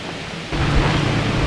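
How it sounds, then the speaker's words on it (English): A lawn mower drones steadily in the background, its low broadband engine rumble growing louder after the first half second and holding on without a break. "I apologize for the mower in the background."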